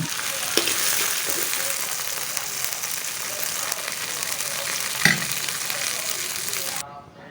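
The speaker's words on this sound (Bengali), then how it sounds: "আলুর কচুরমুখীগুলো বেশি ভাজবো না, হালকা ভেজে নিব" Potatoes and taro corms (kochu mukhi) fry in a pan of oil with a steady, dense sizzle throughout, a few stirring knocks and scrapes breaking through before it quiets at the very end.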